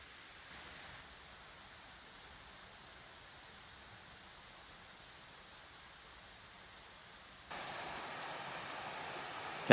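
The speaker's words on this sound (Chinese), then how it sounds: "涌出的流水顺着阶梯化成疗愈的声音" Water from a spring pours down the old foundation stones of a stepped waterfall in a Japanese garden, a steady soft hiss and rush throughout that swells louder near the end, with no voices.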